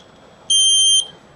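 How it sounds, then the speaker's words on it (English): A generator protection panel's buzzer sounds for reverse power flow, one loud, steady electronic tone that lasts about half a second and then cuts off, against quiet background. "we are indicating the reverse power flow and buzzer is indicating"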